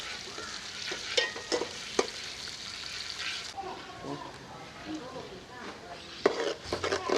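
Finely chopped onion fries in oil for a desi chicken karahi, a continuous crackling sizzle with spoon stirring and clinks against the pot, close by, with a faint voice in places.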